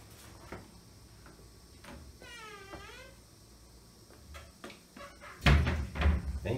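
A hotel room door at a pousada in Buzios is pulled shut with one loud, close thud near the end, after a few quieter knocks and a short chirping sound.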